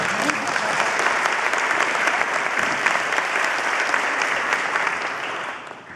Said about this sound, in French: vous pouvez applaudir Max